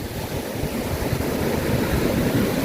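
Sea waves at Phayun beach in Rayong wash in a steady, broad roar of surf, with wind buffeting the microphone throughout.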